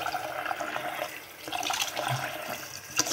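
Tap water running into a sink while soap is rinsed off a face, a soft, uneven splashing and trickling with a few brief louder splashes, close and fairly quiet.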